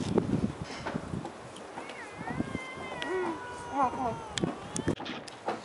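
A cat meows outdoors, several rising and falling mewing calls in the middle of the clip amid busy background noise and some nearby talking.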